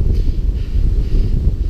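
Gusty wind rumbles and buffets close to the microphone on a hiking trail at Cumberland Gap, a low blustery roar that rises and falls with no voices.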